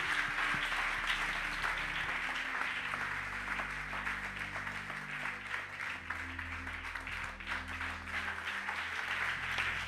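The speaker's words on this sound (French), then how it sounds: "Acclamez Dieu" A church congregation applauds to praise God during a sermon, a dense, steady wash of clapping from many hands that holds evenly for about ten seconds under a faint low hum, with no voices on top.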